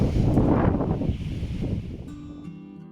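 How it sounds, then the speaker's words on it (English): Strong outdoor wind buffeting a microphone during a van conversion build, a loud continuous low roar that gusts and slowly eases, with some clicking handling noise toward the end and no one talking. "I'm probably going to have to voice over like I say because this wind is nuts"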